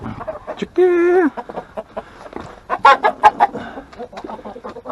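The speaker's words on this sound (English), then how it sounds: "Chicken." Backyard chickens kept alongside quail cluck in short bursts, with one long sustained call early on followed by a run of close, busy clucks and squawks from the flock.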